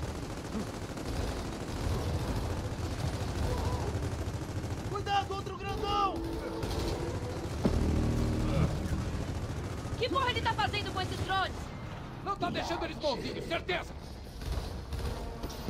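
Gunfire in the video game Gears of War 4, with sustained bursts of automatic shots and scattered louder blasts running continuously under a player's voice talking.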